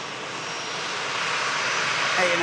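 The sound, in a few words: Jet2 Boeing 757 aircraft engine on emergency landing approach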